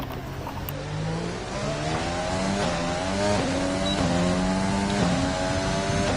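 F1 race car engine heard from the onboard camera during a lap of the CRL-sPORT F1 series, a loud, steady high-pitched whine climbing through repeated upshifts, each gear rising in pitch then dropping briefly, constant and close with no talk.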